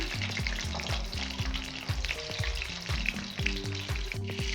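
Seekh kababs frying in a pan and being turned over, with a constant hiss of oil and repeated close scraping and tapping of a utensil against the pan in an uneven rhythm.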